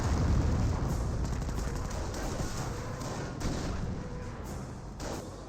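Half-tracks and other units firing in the World War II strategy game Company of Heroes, a dense, continuous barrage of overlapping gunfire and heavy blasts that stays loud and steady throughout.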